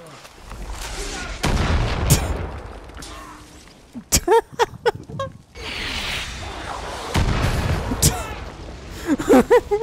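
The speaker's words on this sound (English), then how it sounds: "There's a mortar here." Mortar fire in the video game Far Cry 5 sounds as heavy booms and cracks among bursts of gunfire. People talk and exclaim over and between the blasts.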